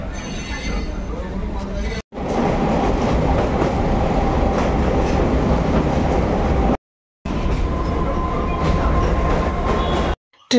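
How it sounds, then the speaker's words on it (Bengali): A passenger train rolls along on its rails, a steady rumble of wheels and car body with clickety-clack, broken by two brief silent dropouts. "ট্রেন আসার পর উঠেও পড়লাম।"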